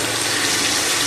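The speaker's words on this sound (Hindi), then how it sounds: "अब इसमें पानी डालेंगे।" Water splashes steadily and loudly into a pan of fried onion and spice masala for a soya chunks pulao, a continuous gushing pour heard alone.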